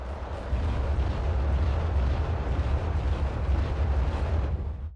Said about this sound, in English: The mortar's firing the Ericos instead of the Wilk